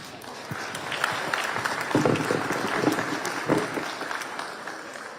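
Audience applause at a New Bern mayor and aldermen candidate forum, a steady round of clapping from a crowd lasting the full stretch, swelling slightly in the middle with a few louder claps.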